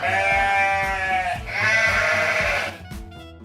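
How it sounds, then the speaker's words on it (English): A sheep bleats loudly nearby in two long, wavering calls, one right after the other, with no other sounds around them. "It's a sheep."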